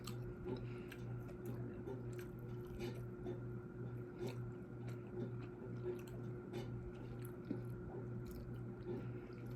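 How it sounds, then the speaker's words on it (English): Close, wet chewing and soft mouth sounds from a person eating during a morning mukbang, steady and unhurried over a constant low background hum. "sorry, I'm chewing."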